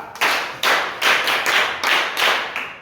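A class of children claps in unison for a classmate in an African classroom, about seven crisp group claps landing in an even, steady rhythm, each one ringing briefly before the next, with no talk.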